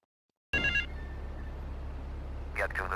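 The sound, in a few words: payphone ringing in the video game GTA 3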